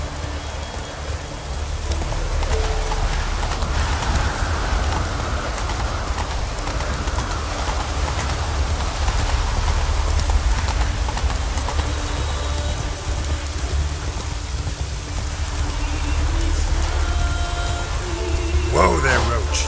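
Horse Roach trotting in The Witcher 3 on Skellige, a steady clip-clop of hooves running throughout amid rain and ambient wind, with a brief voice near the end.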